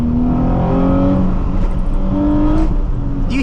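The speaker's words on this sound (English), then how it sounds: "the more I press the gas down, it sounds like it gets" Nissan 350Z engine revving as the throttle is pressed further, a loud, steady exhaust drone with rising and falling harmonic tones over about three seconds, no voices.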